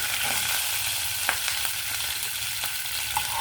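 Tempering spices with urad dal sizzle in hot oil for a bachalikura tomato chutney, a dense, steady, close frying hiss with a few small pops and crackles.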